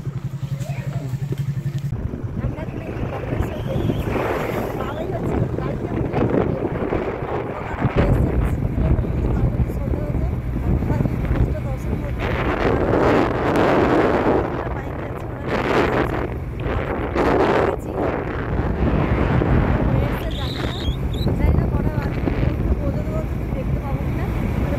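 Wind buffets the microphone while riding a motorbike on the road toward Bakreswar at dusk, a loud steady rush with engine drone underneath throughout, with people talking intermittently over it.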